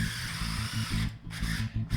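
A 3.5 inch hole saw cutting through 1/2 inch plywood on a workbench, a loud, harsh, whining grind with a rapid chattering pulse, briefly dropping out twice as the cut pauses, close and alone.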